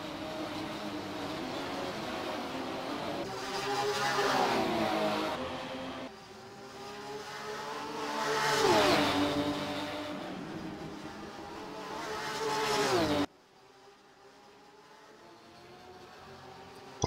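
Porsche race cars roar past at Brands Hatch circuit, three sweeping pass-bys with rising and falling engine pitch, loud and close, before a sudden cut to a quieter stretch.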